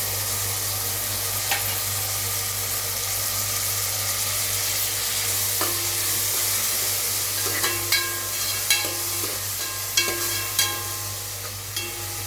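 Ginger garlic paste sautéing in hot oil for vegetable biryani: a continuous close sizzle with intermittent scrapes and clicks of a spoon stirring the pan, no talking.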